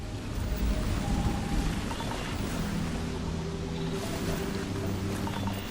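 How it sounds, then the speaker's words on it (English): Steady rain in a survival video game, a dense, even hiss of falling drops that continues unbroken throughout at moderate volume, with no talking. "Damn it, it's raining."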